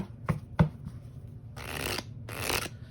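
Tarot cards shuffled by hand: two sharp riffle snaps followed by two longer ruffling bursts, close and clear in a quiet room.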